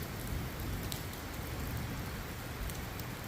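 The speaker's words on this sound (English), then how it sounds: "enjoy the rain." Steady rain falling, a dense even hiss with occasional sharper drop hits, constant throughout with no voices.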